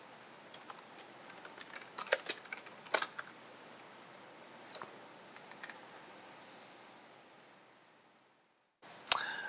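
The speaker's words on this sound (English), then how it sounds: "You can type in a citation, or you can also just type in search terms." Search terms are typed on a computer keyboard in quick, uneven bursts of soft key clicks, thinning out toward the middle before a short silence and a single sharp click at the end.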